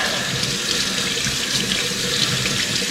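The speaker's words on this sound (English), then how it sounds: "rinse them, and if you want to get them extra clean, you can take a brush, just scrub them like this" Vegetables rinsed under a running kitchen tap, a steady close rush of water splashing into a sink throughout with no talk.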